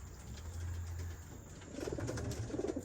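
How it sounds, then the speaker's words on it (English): Pigeons gathered outside their loft give low, repeated coos close by, soft at first and then busier with overlapping calls, with faint rustling and no speech. "So all the birds are out here."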